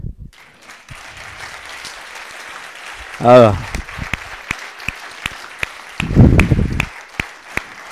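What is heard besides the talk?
audience applauding after a children's show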